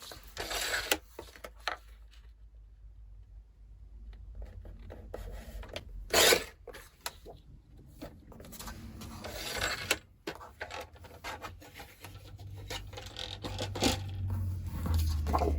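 A paper trimmer blade slides and rasps across cardstock for a scrapbook album, several soft scraping cuts and rubbing sounds, close and quiet with no talking.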